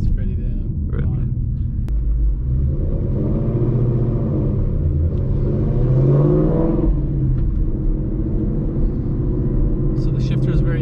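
A Whipple-supercharged Mustang drives with a steady loud engine rumble and a rev rise in the middle, heard from inside the car beneath people talking.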